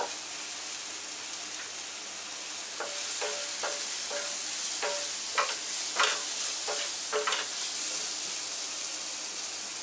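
Tomato mixture frying in a pan for Odia aloo chaat, a steady close sizzle and hiss with a series of stirring scrapes over it midway through.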